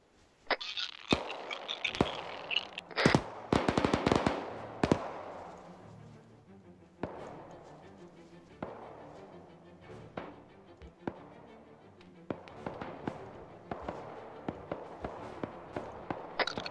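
Sharp gunshots in the military shooter Arma 3, loud cracks clustered in an early burst of rapid fire, then scattered single shots and short volleys over a quieter background of movement and faint noise.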